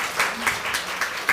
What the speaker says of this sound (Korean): 우리 환영의 박수